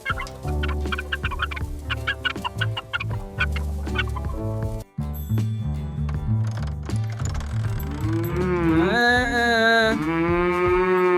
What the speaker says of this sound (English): Our first cow.